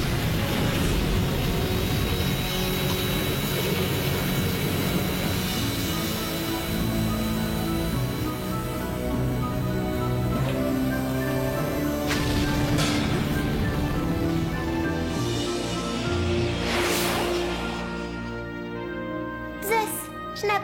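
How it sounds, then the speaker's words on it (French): An aircraft in an animated series roars up to full power for takeoff, a loud sustained engine drone with rising tones that swells and then breaks into whooshing bursts near the end. "5, 4, 3, 2, 1, décollage."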